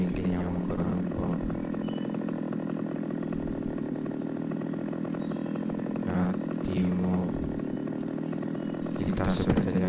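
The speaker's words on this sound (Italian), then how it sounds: "giro di motosega e via." Chainsaw running in a video game, a steady buzzing engine drone held near and constant with brief revving swells, while a person talks over it.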